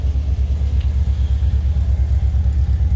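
A supercharged 2010 Chevrolet Camaro RS engine idles with a deep, steady exhaust rumble, loud and close, pulsing evenly throughout with no talking.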